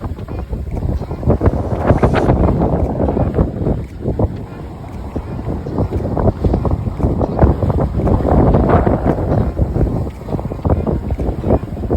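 Strong wind buffets the microphone while a heeling sailboat moves through the water, with a steady rushing roar and occasional creaks and splashes.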